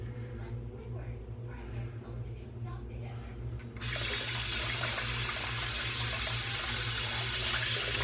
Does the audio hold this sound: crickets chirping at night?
no